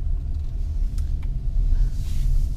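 A Hyundai car's engine runs while the car rolls at about 10 mph, a steady low rumble with road noise heard from inside the cabin, with a faint tick or two over it.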